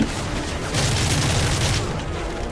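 Heavy explosive blast in Call of Duty: Modern Warfare 3, a dense, loud wall of booming noise with rumbling low end that holds steady for a couple of seconds, no talking over it.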